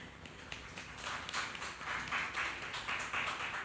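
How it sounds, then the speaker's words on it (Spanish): Church congregation applauding to welcome a woman preacher, a faint, spread-out patter of many hands clapping that swells slightly and continues steadily in a large room. "le podemos dar un aplauso"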